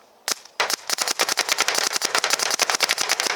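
Rapid bursts of shots from a Proto Maxxed Rail paintball marker, a quick uneven string of sharp pops after one opening shot, loud and close with no talking.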